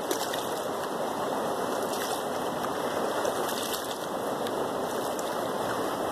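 Gold pan swirled and rocked back and forth in a stream to wash out blonde sand, heard as a steady close rush and slosh of flowing water without any talking.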